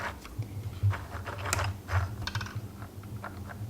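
A mini sewing machine's hand wheel is turned by hand, producing a close, quiet run of small mechanical clicks and ticks with a soft low thump now and then.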